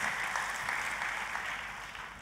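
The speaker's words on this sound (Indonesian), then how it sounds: "Tepuk tangannya yang paling meriah buat Tuhan kita" A church congregation applauds during a sermon, a steady wash of clapping from many hands, moderately loud and even from start to finish.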